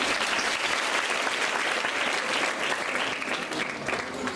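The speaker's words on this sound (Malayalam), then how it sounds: "നല്ലൊരു കയ്യടി കൊടുത്ത്" Sustained applause from an audience at a school arts festival inauguration after a young girl sings, dense and even throughout, close and loud with no talk over it.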